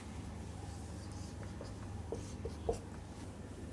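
Pen or chalk writing by hand during a pharmacy chemistry lecture, faint scratchy strokes and light taps over a steady low hum, with a few sharper marks near the end.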